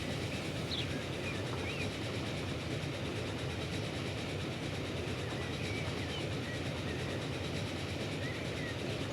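Trains roll steadily in the Transport Fever 2 simulation game on a tropical map, a dense continuous rumble with faint rhythmic clatter throughout and no pauses.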